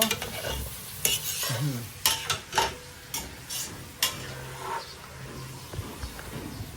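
Chicken tinola stirred in a pot, with a utensil scraping and clinking against the metal over a soft simmering sizzle, close and irregular, with no one talking.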